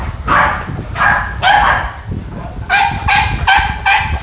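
Several dogs bark at a bully breed kennel in Long An, loud and close, in repeated bursts of two to four barks with short pauses between.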